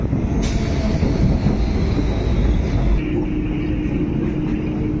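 A local train runs on the Naihati–Bandel line, a loud, steady rumble of wheels on track with a brief sharp squeal or clank early on and a faint tonal whine later, with no voices.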